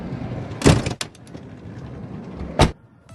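A car's power sliding door rolls shut after a button press, with a loud thud near the start, a brief click, then a low whir and a second firm latch thud close by.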